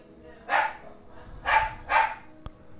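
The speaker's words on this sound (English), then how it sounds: "And the dog's singing with her." A pet dog howls and yips along with a woman singing in the background, three drawn-out howling bursts rising and fading under a voice talking nearby.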